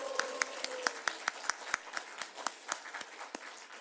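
A church congregation claps in a steady rhythmic beat, sharp evenly spaced claps in unison, fairly close, with faint background voices and a brief tone near the start.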